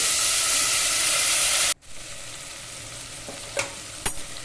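Garlic cloves frying in a pan for a Nellore-style pappulusu (lentil stew with drumsticks), a loud, steady sizzle that cuts off abruptly, then a quieter hiss with a couple of sharp scrapes near the end.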